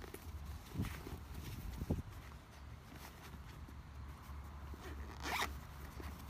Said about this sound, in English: Zip it up, and you're ready to go.